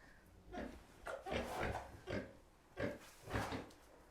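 A large sow, due to farrow again soon, grunts in her pen, giving a series of short, soft, close grunts in irregular bursts with brief quiet gaps between them.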